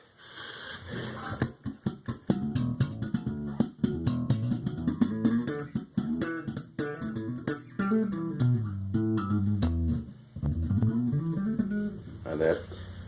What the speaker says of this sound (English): And that classic Music Man sound you hear from this,